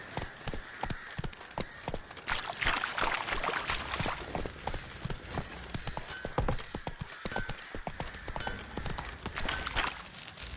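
Horse hooves clip-clop in a video game played on PS4, a rapid, continuous clatter of steps close up over a wind-like background wash, with a faint voice.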